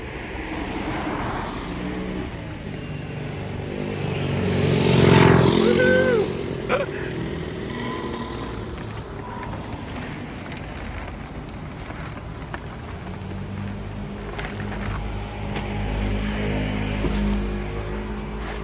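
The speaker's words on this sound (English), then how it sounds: "Lots of holiday traffic heading back south" Holiday traffic on a road in Taiwan heading south toward Nantou County, with one vehicle sweeping loudly past at close range midway, its pitch dropping, over a steady wash of road and rain-like noise.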